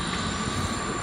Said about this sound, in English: Got that double Southwestern Railway going out, it'll just go out down the line